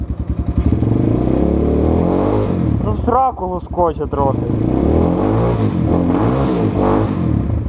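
A 2023 KOVI 250 motorcycle engine idles with a steady, low, throbbing rumble, close by, while someone talks over it throughout.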